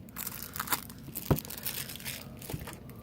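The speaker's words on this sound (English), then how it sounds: "Okay, so open up one pack of cards." Plastic wrapping torn and crinkled off a pack of game cards during a board game unboxing, a few close rustles and crackles with one sharper crunch, fairly quiet, no talking.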